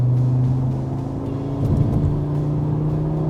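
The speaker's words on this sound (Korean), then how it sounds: "퍼포먼스 모드로 바꾸면은 이제 배기음이 조금 더 커지고요" An Audi RS 3 sports sedan in performance mode with a louder exhaust idles with a steady, close engine drone, then rises in a brief, light throttle blip before settling back to a steady hum.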